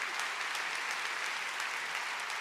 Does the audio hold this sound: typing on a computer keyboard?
no